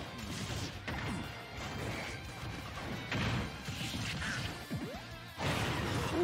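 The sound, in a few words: forward smash attack hit in Super Smash Bros video game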